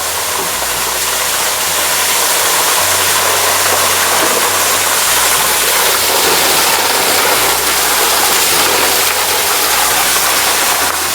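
A dewatering pump discharges a heavy, steady rush of water, loud and continuous like a small waterfall, with a faint low engine-like hum beneath.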